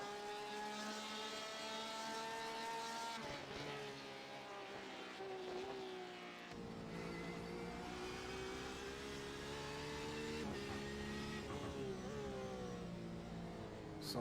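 GTE/GT3 race cars in a sim racing game, engines whining and revving in overlapping tones that rise and fall as the cars run together, steady and moderately loud throughout with no voices.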